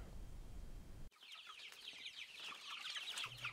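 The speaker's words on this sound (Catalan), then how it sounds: "Ecogall, una petita explotació per qui hi ha pollastres ecològics" Organic free-range chickens on a small farm cluck and chatter steadily at moderate distance after an abrupt cut from a louder low rumble, with a faint low hum entering near the end.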